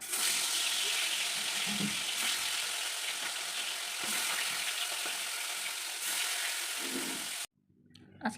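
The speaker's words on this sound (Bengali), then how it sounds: "এখন কড়াই বসিয়ে দিয়েছি, নুন হলুদ দিয়ে ভাজা করব।" Rohu fish pieces coated in salt and turmeric frying in a pan, a constant close sizzle with occasional sputters and scrapes, stopping abruptly near the end and leaving faint room noise.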